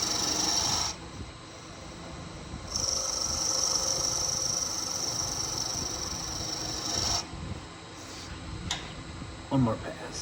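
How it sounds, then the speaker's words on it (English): A spindle gouge cutting a walnut goblet on a wood lathe, a continuous rasping, whirring cut with a high-pitched tone that starts and stops between passes, with a few knocks near the end. "I find myself using the tip of the spindle gouge"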